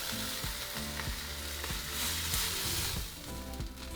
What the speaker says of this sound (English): once we're done searing our meat and our meat looks all like this